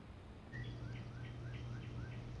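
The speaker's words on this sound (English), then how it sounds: "Little birds. Nice little outside noises." Small birds chirp outdoors on a clear, sunny day, a faint series of short, evenly spaced tweets over a quiet background hum.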